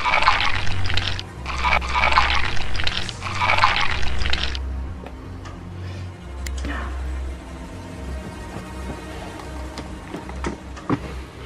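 Water gushes from taps in a Bendy horror game in three loud, rushing bursts over a low droning hum, then gives way to quieter ambient dripping and trickling.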